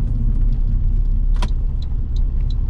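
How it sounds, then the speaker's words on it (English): A Saab car driving on the road after an axle repair, heard from inside as a steady, loud low road and engine rumble with a brief rattling clink partway through. "So very interesting to see how much smoother the car is when I'm on the road."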